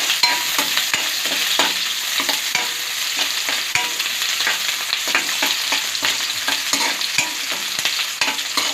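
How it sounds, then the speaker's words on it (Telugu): Onions sizzle steadily in a hot pan for aloo masala curry, a dense crackling fry close by, with a utensil scraping and stirring throughout and no talk. "ఆనియన్స్ వేసుకొని ఫ్రై చేసుకోవాలి."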